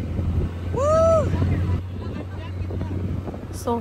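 A small island-hopping boat sails at sea off Boracay, its low motor droning steadily under gusty wind buffeting the microphone. Voices are heard briefly.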